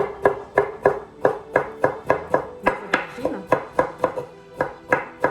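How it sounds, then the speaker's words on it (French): A knife chops aubergine finely on a cutting board, about twenty crisp, evenly spaced strokes in a steady quick rhythm, close and loud, with no talking. "je vais venir découper donc assez finement"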